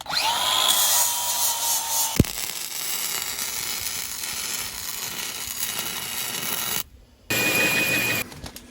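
A power drill bores holes in steel for a bale trailer being fabricated, a loud steady whine that drops off, then runs on through a long stretch, with a short gap before a final burst.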